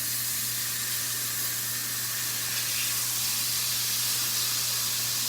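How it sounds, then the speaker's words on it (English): Vegetables grilling in a hot pan give a continuous, loud, even hiss of sizzling with a faint low hum beneath and no talking. "we're going to start grilling them right now in our"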